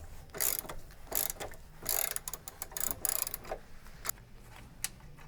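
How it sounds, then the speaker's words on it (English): A ratchet clicks in quick bursts while loosening a nut on a sway bar bracket of a BMW, close and fairly quiet, with pauses between strokes and a few stray metallic taps. "We'll remove one nut on each bracket, then we'll go back and get the other nuts."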